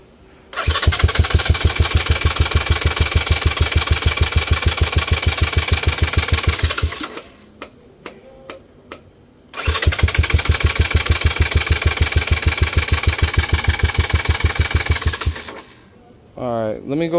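A Lifan KP Mini 223 OHC 165FMM small engine runs loud and close in two steady bursts, with a brief sputtering pause between them and a fading rattle at the end.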